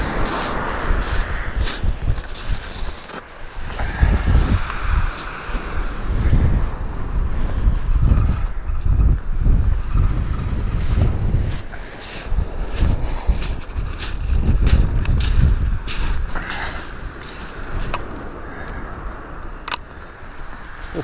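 Steady wind buffets a microphone on a Suffolk beach during shore fishing for dab, a continuous broadband roar with gusty surges and no voices.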